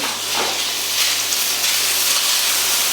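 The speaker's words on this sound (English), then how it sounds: "in a hot pan with a teaspoon of oil, just render our bacon down" Bacon in a hot pan with a little oil, a steady loud hiss and crackle of frying that continues without a break, with a low hum beneath.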